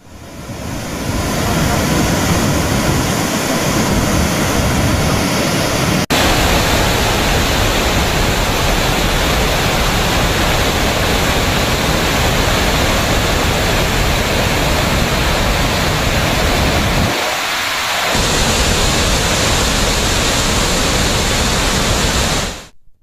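Water thunders out through the nine raised spillway gates of the Nagarjuna Sagar dam during heavy rain, a loud continuous roaring rush with steady wind buffeting, unbroken throughout.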